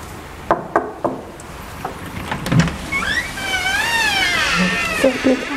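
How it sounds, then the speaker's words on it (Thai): Knocking on a room door during a visit to a small hidden zoo: three sharp raps close by in the first second, followed by scattered shuffling and high whistling chirps, with no talk. "ไปเคาะห้องเรียกเจ้าของออกมารับเราดีกว่าค่ะ"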